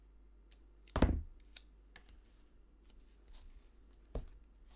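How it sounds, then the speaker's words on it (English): Sticky tape pulled and pressed onto a large black and white Christmas album: one loud ripping strip near the start, then light taps and rustles as it is smoothed down, close and fairly quiet. "definitely need more tape over that."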